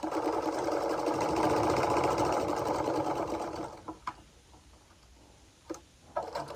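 A sewing machine stitches while a corset pattern is sewn, running in a loud, steady rattling hum for several seconds before stopping, followed by a few clicks and a brief restart.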